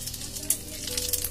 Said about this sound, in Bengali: এর মধ্যে দিচ্ছি পাঁচ ফোড়ন